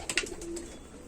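Indian Rampuri pigeons sitting together give a soft, brief coo amid a few faint chirps, fairly quiet and close.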